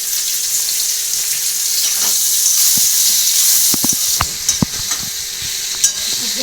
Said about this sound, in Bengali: ভেজে নেবো, কেননা কচি আম তো গলে যাবে, ভেজে তুলে রাখবো